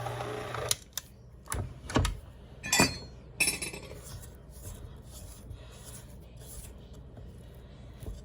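A spatula scraping down cookie batter spiced with cinnamon and clove in a mixing bowl: a few sharp clinks and scrapes, then a quieter stretch of light rubbing, close and fairly faint.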